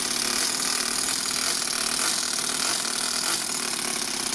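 A four-stroke overhead cam engine fitted in an RC car runs steadily at close range, a dense continuous mechanical drone with no pauses and no voices.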